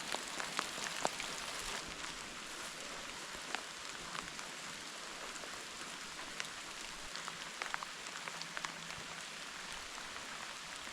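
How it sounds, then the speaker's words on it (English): Soft, steady rain falls on a farm during a mild rainstorm, with scattered nearby drops pattering on surfaces over a faint, continuous hiss, no voices. "Mild rainstorm flood warning here on the farm."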